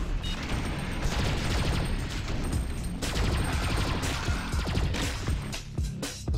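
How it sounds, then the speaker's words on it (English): Alien cannons firing yellow projectiles in the video game Alien Shooter 2, heard as a dense, continuous barrage of rapid shots and impacts with crashing bursts layered over the game's busy action. "Aliens with the cannons on their back that shoot those yellow projectiles really change the tide of battle."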